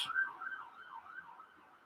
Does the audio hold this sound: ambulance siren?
yes